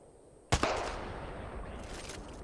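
A Wingman pistol fires in a video game, a sharp close shot burst at the start followed by lingering reverberant gunfire noise and faint clicks, with no talking.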